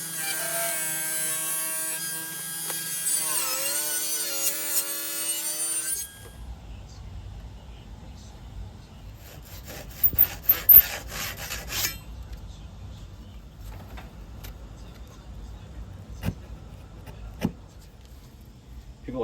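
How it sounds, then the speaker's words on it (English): Stained poplar wood is cut into thin strips for guitar bracing, giving rough, rasping rubbing strokes in irregular bursts after an opening stretch of unrelated sound, fairly close with no talk. "These 2 pieces were made of poplar that was stained, so I'm going to cut them into thin strips"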